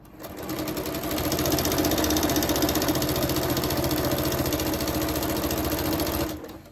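Close, steady whir of a sewing machine back stitching quilt pieces for a strip heart quilt, with a fast even stitch pulse running nonstop for about six seconds before stopping, no talking.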